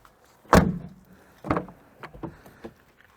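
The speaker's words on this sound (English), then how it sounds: "Door closes and opens just fine" A Jeep door shuts with a loud, close slam, then a second thud follows a second later, trailed by a few lighter latch clicks and knocks, with no voices.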